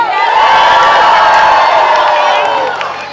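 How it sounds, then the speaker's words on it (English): A large, close crowd aboard the Disney Magic cruise ship cheers, whoops and shouts loudly and steadily for Disney characters, with scattered clapping in the din. "I know he likes the biggest cheers and shouts that you can."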